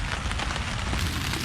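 Steady rain falls at a campsite on a cool, rainy July day, a continuous close patter across the whole stretch with no voices.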